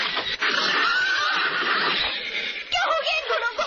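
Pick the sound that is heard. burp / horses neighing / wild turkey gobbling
horses neighing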